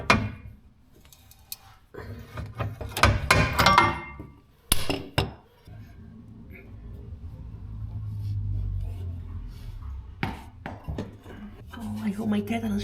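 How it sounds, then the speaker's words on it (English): Muffler being pulled off a Vauxhall Corsa exhaust, sharp metallic clanks and knocks in uneven bursts close by, followed by a rumbling scrape and a few more taps, with a voice talking at times. "I'm taking muffler off"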